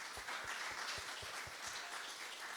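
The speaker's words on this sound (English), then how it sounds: "let's give you a big round of applause" Applause from a congregation at a Sunday church service, a faint, distant and steady patter of many hands clapping for a short stretch.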